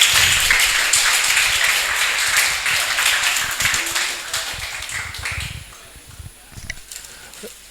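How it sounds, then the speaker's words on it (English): Audience applause at a Pint of Science event in a brewery venue, a dense wash of clapping that holds strong for several seconds, then thins into scattered claps as it fades out. "Please give them one more round of applause"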